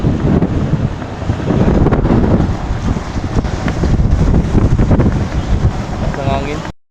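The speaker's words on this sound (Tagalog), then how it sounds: "Ang hangin." Strong wind buffets and roars across the microphone in a constant rush on a ship near Batangas, with a faint murmur of water and a voice under it.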